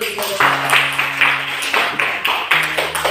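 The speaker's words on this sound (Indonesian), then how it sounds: "Kita tepuk tangan dulu." A short burst of hand clapping from a small group, uneven and close, with a few voices and background chatter mixed in.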